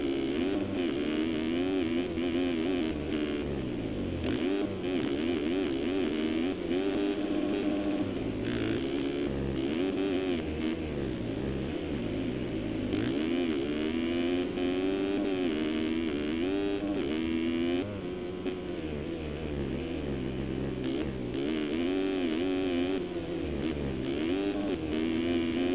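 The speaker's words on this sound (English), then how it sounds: "I just want to listen to the revs of the bike here" A motocross bike engine in MX Simulator revs up and down continuously, its pitch rising and falling in waves over a constant mechanical drone.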